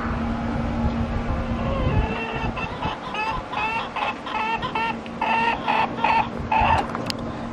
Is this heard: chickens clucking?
yes